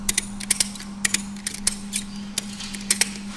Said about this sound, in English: Now we can begin picking up, cranking on the ratchet strap.